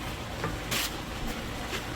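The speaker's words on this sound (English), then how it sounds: "continued to stir my mushroom and onion mix." Mushroom and onion mix sizzling steadily in a pan while being stirred, with brief bursts of louder hiss and scraping as the spoon moves, close up and without talk.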